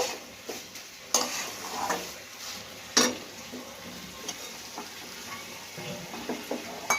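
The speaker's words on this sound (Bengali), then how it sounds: "এবার গরম মশলা দেব। ভালো করে গরম মশলাটা মিশিয়ে নেব।" A spoon stirs garam masala into a banana flower curry with prawns in a pan, giving a few sharp clinks and scrapes over a soft, steady sizzle, with no voices.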